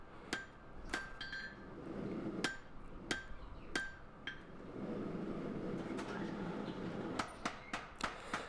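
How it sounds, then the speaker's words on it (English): Power hammer flattening the handle and ricasso area of a forged san mai Damascus bowie knife, a series of sharp, ringing metallic blows at irregular intervals over a low workshop hum. "then we'll flatten that out on the power hammer"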